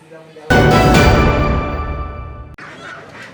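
Free-range village chickens at a traditional market in Mataram, a loud burst of clucking and squawking fowl that starts abruptly and fades over a few seconds before cutting to quieter background.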